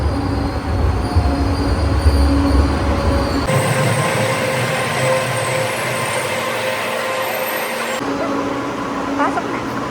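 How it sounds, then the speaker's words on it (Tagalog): A train rolls loudly into a station, wheels rumbling and squealing against the rails, with the sound shifting as carriages pass close by. "paparating na ang tren"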